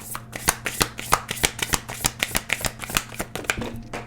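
Tarot cards shuffled by hand in a steady run of crisp riffling slaps, close and fairly loud, with a low steady hum underneath and no talk.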